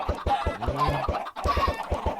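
Minecraft chickens cluck in rapid, evenly repeated clucks, loud and close, one burst following another without pause.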